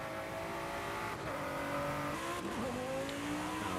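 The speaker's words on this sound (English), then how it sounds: "I love the sound of this GT" A sports car engine in the game Forza Horizon 5 hums and revs at a steady high pitch, with shifting tones as it accelerates, continuous with no talking.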